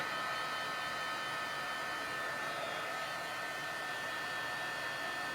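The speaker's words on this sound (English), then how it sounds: "Gotta be careful with your heat tool so you don't burn your little fingers" A crafting heat tool blows a steady, even hot-air whoosh while heating embossing powder, a constant fan-like hum held throughout at a modest level with no voices.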